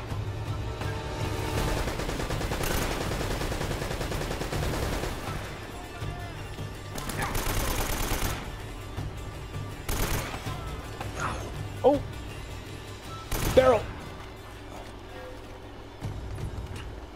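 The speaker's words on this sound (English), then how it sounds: "where's that gun coming from?" Scattered gunfire in Uncharted: Drake's Fortune, a sustained rattle of distant shots giving way to a few sharper, louder cracks and impacts spread over the stretch amid ambient game noise.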